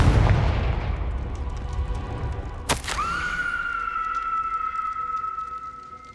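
A Confringo explosion spell in Hogwarts Legacy gives a sharp, bright crack. A sustained ringing, whistling tone follows and hangs over a low rumbling background until the end.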